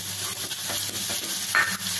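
Green chili paste fries in about two tablespoons of hot oil for a tempering, making a continuous close sizzle with a spoon scraping and stirring in the pan.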